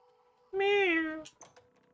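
A single drawn-out cat meow in a video game, one clear, loud tonal call lasting under a second, followed by a couple of faint clicks and quiet.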